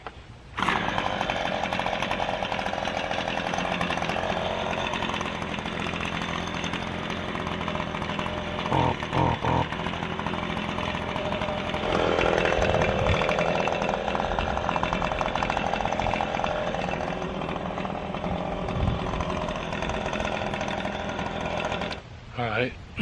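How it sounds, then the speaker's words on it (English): A gas-powered blower clears concrete dust and debris off the stone surface of a patio pad, droning loud and steady close by for the whole stretch, with brief pauses and some talking over it. "To get the rest of the surface dust and debris off of this pad here,"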